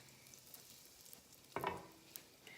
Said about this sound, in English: you will see a nice sound which indicates that the oil is nicely hot